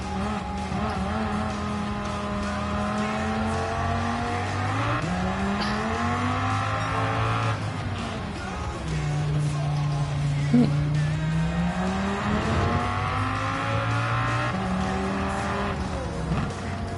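A 1983 Toyota Levin race car in Gran Turismo 7, its engine revving up and down continuously through gear changes, loud and close, with brief tire squeal.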